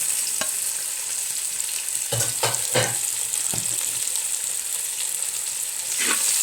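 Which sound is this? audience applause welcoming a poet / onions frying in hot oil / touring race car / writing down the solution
onions frying in hot oil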